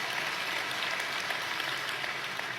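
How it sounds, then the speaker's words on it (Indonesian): A church congregation in Indonesia applauds for God, a steady, moderately quiet patter of many hands clapping at once, continuous and without speech. "Tepuk tangan buat Tuhan."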